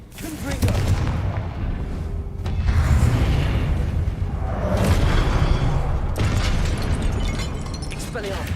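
In Hogwarts Legacy, Confringo blasting curse explosions go off as loud rumbling booms and bursts with heavy low-end roar layered through a busy combat soundscape.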